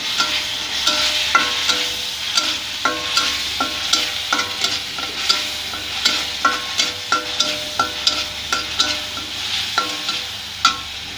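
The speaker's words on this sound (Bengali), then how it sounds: "আর একটু নাড়াচাড়া করতে হবে।" Ginger garlic paste stirred in a frying pan, a continuous sizzle punctuated by a regular run of spatula scrapes and taps against the pan, close and clear.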